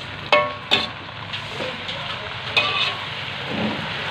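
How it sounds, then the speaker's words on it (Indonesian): Water spinach (kangkung) stir-fried in a pan sizzles steadily, with a few sharp clanks of the utensil against the pan near the start and again later. "Tumis kangkungnya sedap banget ini sahabatku ya."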